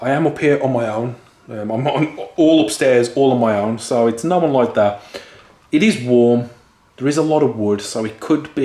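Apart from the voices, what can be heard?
No everyday noise stands out behind the speech.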